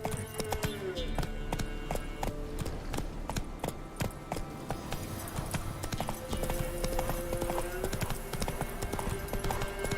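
Roach, the horse in The Witcher 3, gallops with rapid, steady clip-clop hoofbeats throughout, close and loud over faint game music and ambience.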